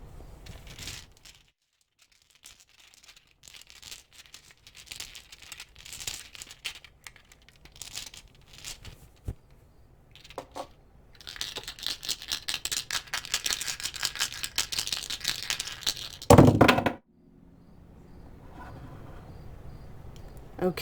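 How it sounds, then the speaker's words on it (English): Tarot dice are stirred and rattled, giving a long stretch of dense clattering and scraping that grows louder toward the end, then stops abruptly. "when I stir these up, it's super loud"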